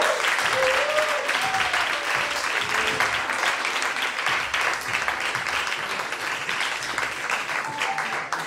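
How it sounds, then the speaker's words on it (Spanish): Audience applause at a poetry slam in Marcilla, a steady dense clapping that fills the whole stretch with little variation, loud and close, with a voice briefly audible near the start. "Carles Nico, un aplauso, por favor"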